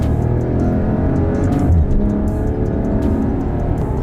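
Steady loud engine roar of a Maserati Quattroporte Ermenegildo Zegna Pelletessuta accelerating on the road, heard from the cabin as a continuous drone with no talk.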